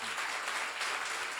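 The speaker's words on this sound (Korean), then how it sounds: "세게 쳐봐요. 박수요." A church congregation at a seminar claps hard together, a thick continuous roar of hands filling the room for a brief stretch.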